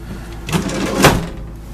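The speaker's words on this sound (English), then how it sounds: "Pull out drawers down here." Pull-out drawers in a 2003 Titan Renegade 3H LQ camper trailer slide and knock, with two soft broadband thumps close by over a low steady background.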